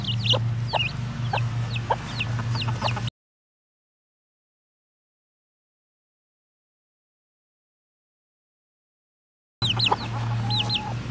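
Marans chicks and chickens cheep and cluck in a farmyard, with rapid high peeps over a steady low hum. The sound cuts out to silence for several seconds, then the same chirping returns.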